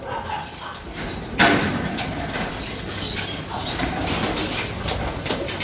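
Racing pigeons arrive at a loft during the final lap of a derby race, with a sudden burst of wingbeats over soft ambient noise and a faint bark somewhere nearby.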